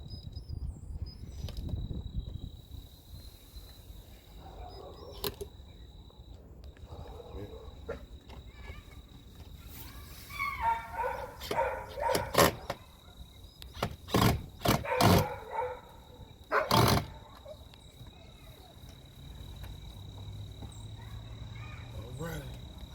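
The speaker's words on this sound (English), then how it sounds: "Excuse the dogs, y'all." Dogs bark outdoors in sharp, scattered bursts, several in quick succession midway, with people talking intermittently and a steady background hum.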